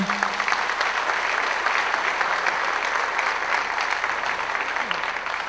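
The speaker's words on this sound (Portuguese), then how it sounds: "vamos aplaudir o Domício aí" A church congregation applauds Pastor Domício, a steady, dense round of clapping filling the room at even loudness throughout, with faint voices beneath.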